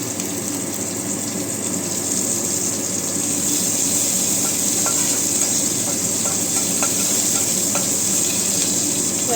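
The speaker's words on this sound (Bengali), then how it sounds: "একটু করে নিই, ভাজা করে নিই। রসুনের কাঁচা গন্ধটা চলে যায়। এর মধ্যে কাঁচা লঙ্কাগুলো দিয়ে দিলাম।" Garlic and green chillies frying in oil for beetroot bata give a steady, close sizzle and crackle that holds at even loudness throughout, with faint light clinks now and then and no talking.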